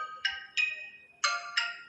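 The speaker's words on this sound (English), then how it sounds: "So guys this alarm ringtone will set in morning in your Xiaomi phone." An alarm ringtone plays from a Xiaomi 11 Lite NE 5G phone as four bright electronic chime tones in two pairs, moderately loud and close, with nothing else heard.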